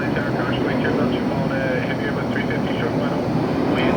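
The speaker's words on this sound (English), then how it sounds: "London Heathrow inbound as Virgin 141 Heavy." A Virgin Atlantic A350 airliner passes over near LAX with a steady, loud jet roar that holds for the whole stretch. Voices talk over the engine noise.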